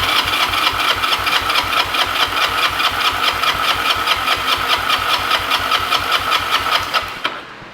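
Single-cylinder-style cranking from a Honda Rebel 250 motorcycle that sat unused for eleven years, turned over with throttle wide open and no carburetor fitted: a fast, steady rhythmic chug of compression pulses, loud and close, stopping abruptly near the end.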